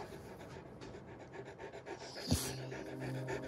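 A dog pants softly and rapidly, close by, in quick breathy bursts with a brief louder snuffle near the end, in a quiet outdoor setting.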